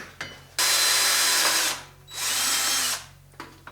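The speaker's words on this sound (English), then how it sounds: "Drill the heck out of cast though, yeah!" A power drill bores into a cast turbo housing in two long, loud whining bursts separated by short pauses, with brief mechanical clicks at either end.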